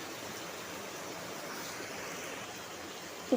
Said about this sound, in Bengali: ডিমটা একটু ভালো করে কষি নেবো